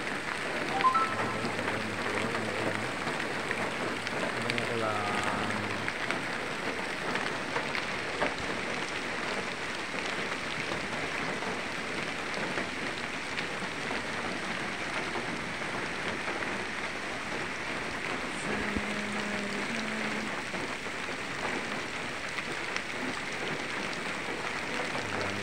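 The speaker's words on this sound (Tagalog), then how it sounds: "Ayan dito nabutan kasi kami ng ulan." Steady rain falls over a bamboo plantation and nursery in the rural Philippines, a continuous dense hiss of drops on leaves and surfaces that holds at an even level throughout with no talking.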